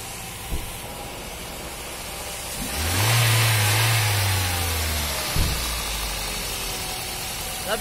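A Toyota Allion with a faulty injector, misfiring and short on pickup, idles with a rough low hum, then revs up in a single swelling burst before dropping back to a steady idle, with small clicks around it.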